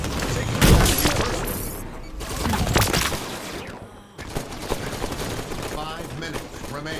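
Halo 5 Assault match gunfire: repeated bursts of automatic weapon fire and explosive booms, close and loud, mixed with in-game announcer callouts and game effects across the whole stretch.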